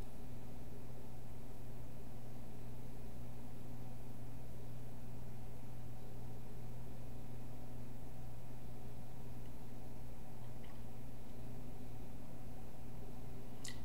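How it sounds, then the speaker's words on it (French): An immersion blender mixes colorant into soap as a steady, even motor drone with a constant hum that runs unbroken throughout, with a couple of faint clicks near the end. "Donc, un petit coup de pied mélangeur."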